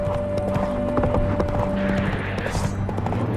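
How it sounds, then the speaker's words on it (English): Horse hooves clip-clop steadily on a path in The Witcher 3: Hearts of Stone, with a brief horse whinny, over game music and ambient sound, continuous and fairly loud. "Spooking my horse. Roach doesn't like ghosts."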